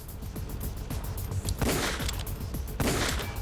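Gunshots in the video game Metal Gear Solid: The Twin Snakes, two loud, sharp blasts about a second apart standing out over busy, steady game noise.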